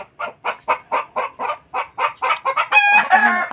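Chickens cluck in a quick, regular series of short calls close by, ending in a longer, higher squawking cackle, with no talk.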